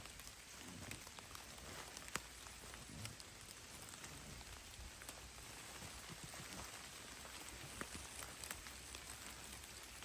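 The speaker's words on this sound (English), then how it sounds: "Rain also helps conceal footsteps." Steady rain falls outdoors in woods with oak trees, a dense, even patter of drops on leaves and ground, with a few sharper close drips standing out over the constant hiss.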